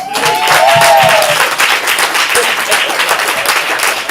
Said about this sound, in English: let's give it up for everyone in your great crowd